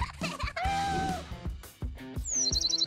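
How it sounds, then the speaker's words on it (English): A nesting bird gives a quick run of high, bright chirps near the end, after a squawking call, over a rhythmic music track. "A bird made a nest."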